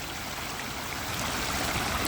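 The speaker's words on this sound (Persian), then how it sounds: "آب روان، آب صاف، آب طبیعی، واقعا طبیعی" A clear natural stream flows steadily, water rushing and trickling in a continuous broadband wash that swells slightly toward the end, with no voices.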